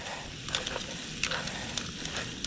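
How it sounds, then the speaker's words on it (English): Steady sizzling and crackling of crab legs frying in butter in a hot pan, with a few sharper pops rising above the constant hiss. "into the butter where it's going to sizzle away and get nice and toasty"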